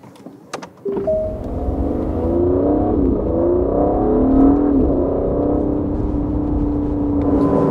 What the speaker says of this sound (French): on a une caisse de résonance interne à la voiture qui fait qu'on entend mieux le moteur